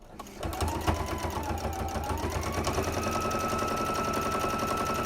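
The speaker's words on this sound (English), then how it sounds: "So we're coming down to the end, one more stitch, come around" A sewing machine stitching a cloth face mask, a rapid, steady mechanical chatter close by that starts after a brief pause and runs continuously to the end, with a faint whine beneath the rattling needle.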